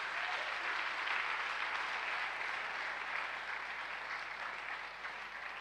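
A church congregation at a worship service applauding for Jesus Christ, a dense, steady wash of many hands clapping together that holds at an even level throughout and eases slightly at the end.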